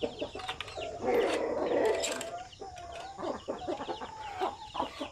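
Native Zampen chickens and a rooster cluck and call close by in a busy, overlapping chorus of short squawks and warbling notes, with no talking.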